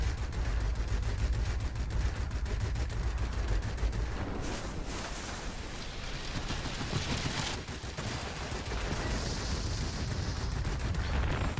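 In the World of Warplanes video game, an Ilyushin attack aircraft fires its guns at an enemy gun emplacement, rapid rattling bursts over a steady engine drone, ending in a sustained roar.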